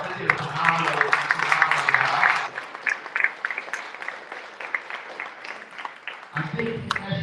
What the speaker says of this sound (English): give these young people a round of applause